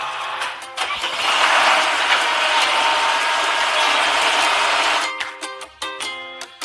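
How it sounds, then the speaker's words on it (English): Machine noise from a toy or cartoon digging machine at a bridge construction site: a loud, steady mechanical whir with ratcheting, gear-like clatter lasting about four seconds, framed by shorter clicks and bursts before and after. "Digging machine."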